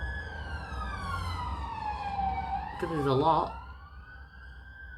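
Police siren wailing along a street, one sweeping tone that rises and falls with a brief yelp in the middle, moderately loud, with a voice talking over it.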